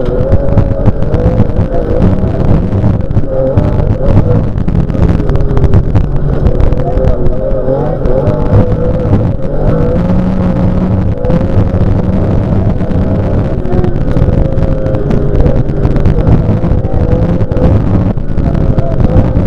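Rally car driven at full throttle during a special stage, a loud continuous engine roar with wind buffeting, close and steady throughout.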